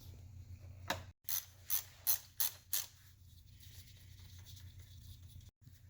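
A ratchet loosens the valve cover bolts on a BMW E46 325i. Six quick bursts of clicking come close together in a rhythmic series over a low, quiet background hum.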